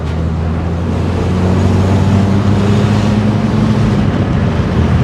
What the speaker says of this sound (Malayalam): നമ്മുടെ ഐ ട്വൻറ്റിയിൽ സൈലൻസറിൽ ഹോൾ വീണതാണ്